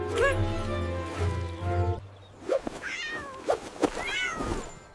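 A cat meows several times up close, with a sustained droning tone in the first part followed by short, rising and falling meows and a few soft whimpering sounds.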